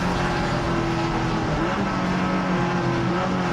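Race cars including a Honda Civic and a Toyota Corolla battle mid-pack in a tuner production circuit race, a steady dense engine roar with sustained high revving tones throughout, loud and continuous with no talk.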